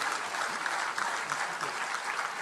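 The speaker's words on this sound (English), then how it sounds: "A big applause to all of the students who have been a part and parcel" A short burst of audience applause for the students at a national conference of CA students; thick, steady clapping from a large hall, loud and uninterrupted with no talking.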